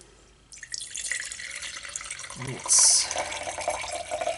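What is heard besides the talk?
water being poured in for lye soap making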